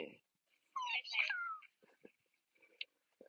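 A cat meows a couple of times, close and clear, with faint soft voices and small noises in the quiet gaps.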